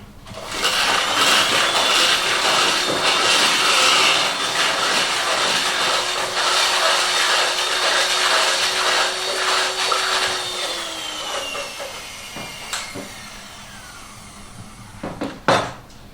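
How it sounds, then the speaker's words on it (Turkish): Cake batter is whisked in a loud, continuous whirring run that winds down after about ten seconds and gives way to a few sharp knocks against the bowl. "ve iyice çırpın"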